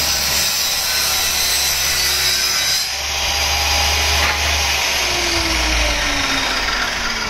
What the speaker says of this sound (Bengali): এই যে বাটামটা কাটতেছে, এই যে বাটামটা সাইজ মতন কাইটা ওখানে লাগানোর জন্য।